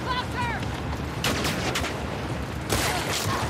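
Gunfire in The Last of Us Part 2, a dense volley of loud shots with two sharp bursts standing out, close and overlapping the whole time, with brief voice fragments mixed in.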